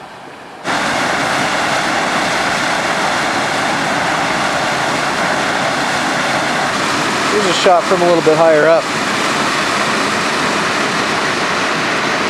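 Creek water from a waterfall in Sabino Canyon rushes in a steady, broadband roar that fills the scene, with someone talking over it partway through.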